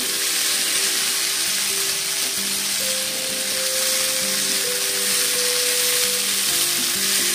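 A Bengali dumur alu dalna, figs and potatoes with ginger, garlic and green chilli paste, sizzles steadily in a pan over medium heat. Close, continuous frying with faint stirring scrapes throughout, no voices.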